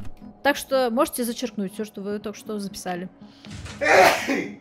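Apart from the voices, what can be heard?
sneeze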